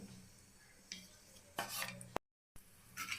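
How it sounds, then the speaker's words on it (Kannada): Cashews roasting in ghee in a pan, stirred with a spoon: soft scraping and clinking of the spoon against the pan in several short bursts, close by, with a faint sizzle underneath and a brief silent gap. "ಗೋಡಂಬಿ ಹುರಿತಾ ಇದ್ದೀನಿ"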